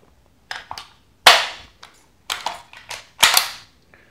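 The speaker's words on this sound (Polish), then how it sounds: "pistolecik strzela z otwartego zamka" A Cybergun Mini Uzi 4.5mm airgun firing from an open bolt, heard as sharp, loud snapping shots close up, singles and quick pairs spaced irregularly over a few seconds, with no talk.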